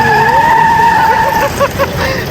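Vehicles speed through busy Hanoi street traffic, loud and close, with a whining engine tone that rises and falls over a rough road rumble.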